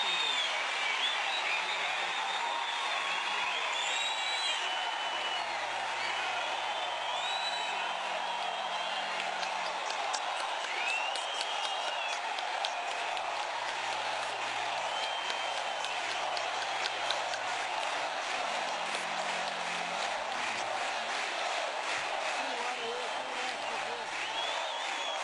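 Crowd applause fills a football stadium at Arena Condá during a tribute to Chapecoense. The roar and clapping are distant and steady throughout, while a commentator talks over it.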